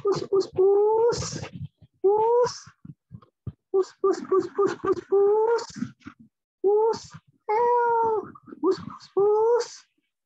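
A cat meows repeatedly in drawn-out, rising calls, several cries in a row with short pauses between them, close and fairly loud.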